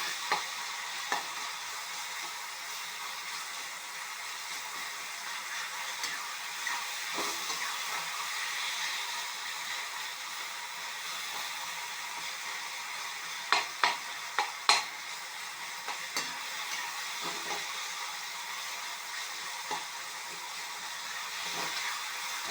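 Curry leaves and coriander sautéing with tomato and onion for a Tamil pori kulambu, a continuous soft frying sizzle with occasional spoon scrapes and taps against the pan, no voices.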